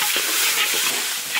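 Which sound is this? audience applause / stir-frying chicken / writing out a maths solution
stir-frying chicken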